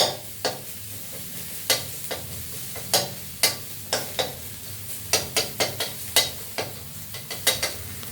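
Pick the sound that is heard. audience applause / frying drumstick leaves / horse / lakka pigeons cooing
frying drumstick leaves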